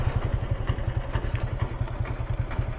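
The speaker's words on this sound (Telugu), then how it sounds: "ప్రశాంతంగా బైక్ అయితే అటు షెడ్లో ఆపుకుందాం" A motorcycle engine runs near the Medigadda (Lakshmi) barrage, a steady, rapid low thumping throb that stays close and even throughout, with no talk over it.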